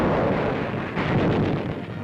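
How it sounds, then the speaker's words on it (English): Continuous heavy rumbling roar of naval gunfire and bombardment at sea, dense blasts and bursts blending together, loud and sustained like distant bombardment, with a gusty, windy texture. "The seas are peppered with gunfire to protect our vessels from lurking enemy submarines."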